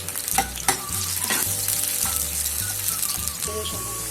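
Onions frying in a pan for matar pulao, browning lightly, give a loud continuous sizzle close by, with scraping stirs and a few clinks as they are moved around.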